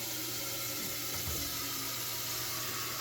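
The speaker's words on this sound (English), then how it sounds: "Fill it up with some water." Water runs from a kitchen tap into a large pot, a steady hissing stream at low level with a brief clunk partway through and no talking.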